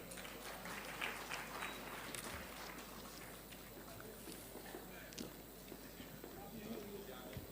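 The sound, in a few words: audience applause at a university convocation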